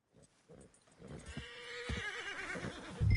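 A large Shire horse in Red Dead Redemption 2 neighs in a long, wavering whinny, preceded by a few soft thuds, fairly close and loud.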